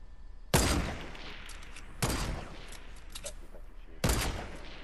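Gunfire in Fortnite Battle Royale: three sharp, loud shots spaced about two seconds apart, each with a short decaying tail, over faint background game noise.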